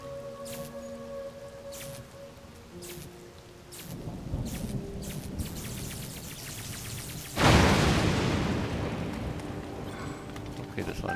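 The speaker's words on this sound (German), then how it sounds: "Der Blitz kann hier gerne einschlagen." Thunder in a rainstorm in The Legend of Zelda: Tears of the Kingdom: steady rain hiss builds, then a sudden loud lightning crack rolls into a long rumbling decay beneath continuing rain.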